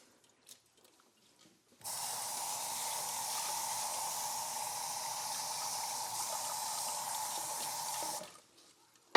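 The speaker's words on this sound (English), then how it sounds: "We normally wash the rice 3 times to make sure that everything is clean." Water pours steadily for several seconds over rice being washed, a close splashing rush that starts and stops abruptly, with quiet handling sounds before and after.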